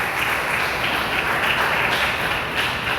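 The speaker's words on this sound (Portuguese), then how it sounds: "Dê uma salva de palmas para Jesus" A church congregation at a Portuguese-language service claps together. The applause is dense, loud and sustained, filling the room evenly from start to finish.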